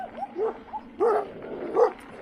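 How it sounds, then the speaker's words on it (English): Big Alsatian dogs bark nearby during a neighbourhood bike ride, giving a quick run of several deep, loud barks in short bursts. "Those are some seriously big dogs. Alsatians."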